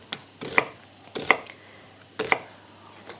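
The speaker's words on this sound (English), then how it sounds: "So I'm going to just chop it up as well" Three separate bursts of knife chopping on a board as a large red onion is cut finely, each cluster a few quick close strokes with short pauses between, and no talking.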